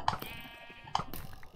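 Several sheep bleat in short, separate calls over quiet background noise, with one near call at the start and another about a second later.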